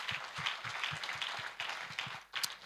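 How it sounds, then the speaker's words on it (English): An audience applauds a speaker at a Saturday Identity Day commemoration event, steady claps spread across a hall, moderately loud and continuous without talk over them. "I think she deserves another round of applause"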